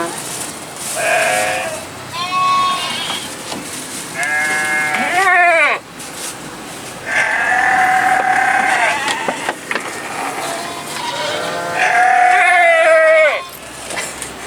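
Saanen dairy goats bleat repeatedly at an agricultural expo, loud and close, in long wavering calls separated by short pauses, with faint background noise between them.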